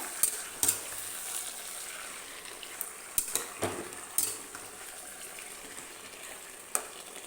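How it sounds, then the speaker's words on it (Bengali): Oil sizzles steadily in a pan while a utensil scrapes and clanks against the metal several times, stirring boiled taro greens. "এবার একটু ভালো করে নেড়ে নেব"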